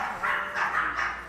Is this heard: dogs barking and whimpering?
yes